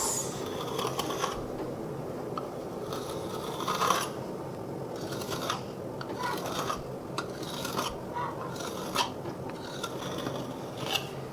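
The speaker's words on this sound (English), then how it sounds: "I'm now going to take my knife and cut them into strips" A knife cuts rolled chapati dough into strips on a board, making repeated dry scraping and rasping strokes in an irregular rhythm, close and moderately loud.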